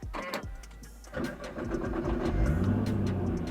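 A Nissan R35 GTR engine cranks and fires up, settling into a steady mid-pitched idle that swells slightly, heard from inside the car at moderate level.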